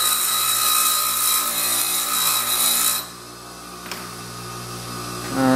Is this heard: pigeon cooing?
no